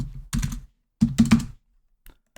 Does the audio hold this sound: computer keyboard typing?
yes